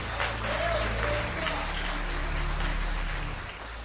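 Church congregation clapping together in a worship hall, steady dense applause over a low droning hum and faint background voices, tapering slightly near the end.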